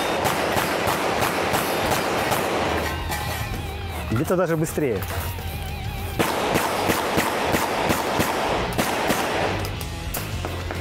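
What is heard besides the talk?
shotgun shots fired rapidly in a practical shooting match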